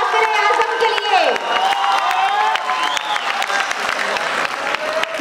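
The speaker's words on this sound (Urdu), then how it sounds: "تو ایک تالی پھر سے" An audience at a Baloch cultural festival in Pakistan claps and cheers loudly and continuously, with shouts and whoops rising over the crowd noise.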